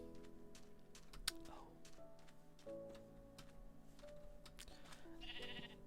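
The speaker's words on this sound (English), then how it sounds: "Oh, you're a stupid sheep." Minecraft sheep bleat in a quiet game world, a few faint, short wavering cries scattered among soft ticking and clicking game sounds.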